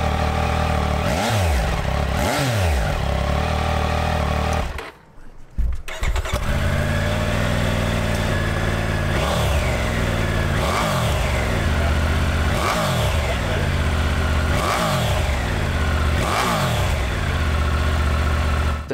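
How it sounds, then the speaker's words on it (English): A Triumph Tiger 900 with a T-plane crank sits close by and revs repeatedly, its rough, growly exhaust rising and falling in regular blips. It cuts out briefly once, then the revving resumes loud and alone. "the new T-plane crank, which gives the Tiger a torquier feel in the low revs and a rougher growl at the exhaust"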